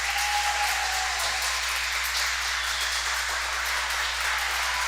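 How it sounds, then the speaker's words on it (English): Steady, fairly distant applause and crowd noise from spectators at a youth intrasquad swim meet, continuous and even across the whole stretch with no voices standing out. "Crowd's going crazy."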